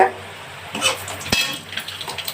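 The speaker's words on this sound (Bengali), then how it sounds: "জিরে ফোড়ন দিচ্ছি।" Cumin seeds dropped into hot oil for tempering while cooking ghetokochu and Deshi catla fish, giving a brief crackling sizzle with a few sharp pops and light clinks of utensils against the pan.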